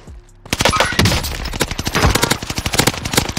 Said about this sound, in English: Shots further behind in this building.